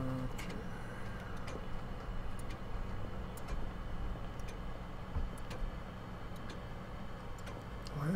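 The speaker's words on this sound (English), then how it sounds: "Why is there so many clocks in this house?" Clocks tick inside a house in the horror game Pineview Drive, a steady sharp ticking pattern over a low ambient hum, with no voices.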